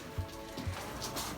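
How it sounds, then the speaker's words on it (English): Rain falls through the open structure of a house under renovation, a soft steady patter with a few heavier drips, fairly faint. "we're getting some rain. So it's obviously raining through our house at this moment"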